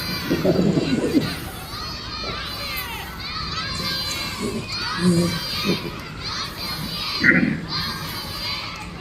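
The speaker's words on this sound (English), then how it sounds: "They start cheering each other on" Primary school children cheer each other on in a lively group, with several overlapping shouts and excited calls rising in bursts over a constant crowd murmur.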